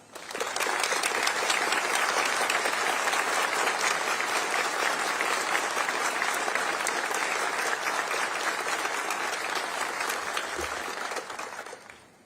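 Sustained crowd applause at a Veterans Day ceremony at Arlington National Cemetery, honoring veterans' national leadership; dense, steady clapping from a large outdoor audience lasting about twelve seconds before tapering off.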